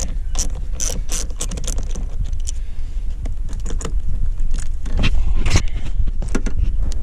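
A wrench ratchets as the ground cable is disconnected from a Ram 1500 truck's battery, giving a string of close, dry metallic clicks and ticks in uneven bursts.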